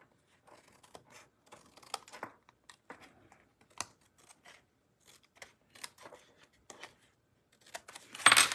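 Paper is being cut for a handmade card project, giving a run of quiet, irregular snips and small rustles close by, ending in a louder crinkle of handled paper.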